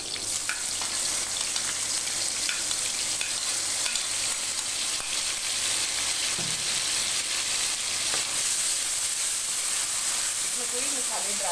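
Chopped onions and garlic sizzle and fry in hot oil in a pan while vegetable macaroni is being cooked, with a steady dense crackle and occasional stirring scrapes throughout, close and continuous.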